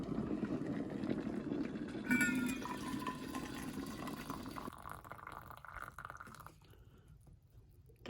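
Hot water pours into a new thermos, a close liquid splash and gurgle whose pitch rises as the vessel fills, then tapers into quieter trickles over several seconds.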